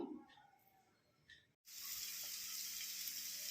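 Green chillies and garlic crushed together hit hot oil for tempering, a loud, steady frying sizzle that starts abruptly and holds through the rest, after a few quieter kitchen clinks.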